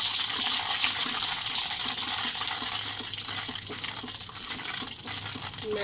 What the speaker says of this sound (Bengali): এখানে কড়াতে আমি তেল দিয়েছি সর্ষে ফোড়ন। সর্ষেগুলো একটু হাতা দিয়ে এরকম ফাটিয়ে দেবো।